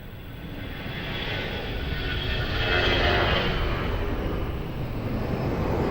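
A passenger airliner takes off at Lisbon Airport, its engines building to a broad, loud roar that swells near the middle and then holds steady, heard from a distance with no voices.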